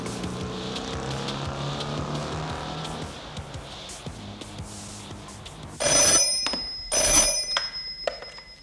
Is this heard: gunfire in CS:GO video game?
no